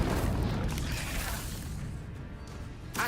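An Incendio fire spell is cast in Hogwarts Legacy, giving a loud, continuous roaring whoosh of flame with a brief burst at the end.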